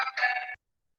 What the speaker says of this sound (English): Phone call coming in.